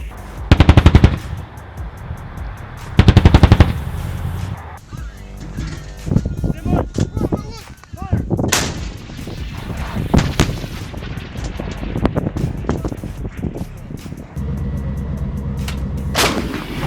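Bursts of machine-gun fire and booming artillery rattle loudly and repeatedly in a combat zone in Kherson, with short shouted voices between the volleys and a rumbling vehicle underneath.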